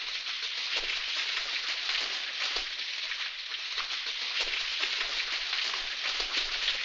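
Steady rain pouring down, a dense continuous hiss of drops on surfaces, even and unbroken, heard alone without voices.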